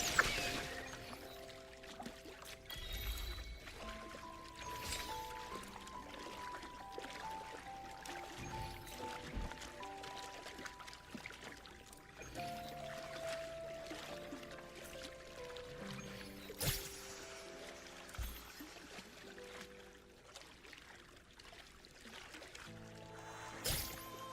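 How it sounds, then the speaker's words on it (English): A large waterfall in Wuthering Waves gives off a soft, continuous rushing and pouring of water, faint and steady beneath sustained game music. "That's a really big waterfall."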